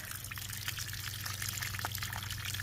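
Water drains out of a cast iron boiler being scrapped, a continuous close rushing trickle and splash that stays steady throughout.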